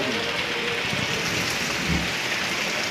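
Steady unseasonal rain falls on a road being asphalted in the Koyna area, a continuous even hiss of water close by with no voices.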